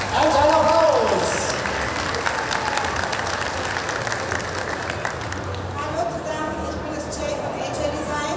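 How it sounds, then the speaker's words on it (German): Steady applause from a crowd at a cosplay contest in Offenburg fills the space, dense and continuous, with a voice briefly audible at the start. "Ein kleiner Applaus."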